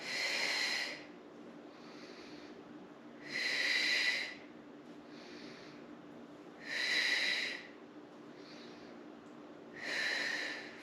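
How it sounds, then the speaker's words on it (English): Slow, even breathing during a core and mobility workout, with four loud breathy exhales alternating with softer inhales at a steady pace, close and alone. "if you'd like to add breath to this, you inhale up, exhale down"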